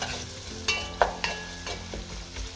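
A spatula stirs onion and mixed vegetables caramelizing in a pan for cabbage sour soup, with a few distinct scrapes and clacks over a soft, continuous sizzle, close and without talk.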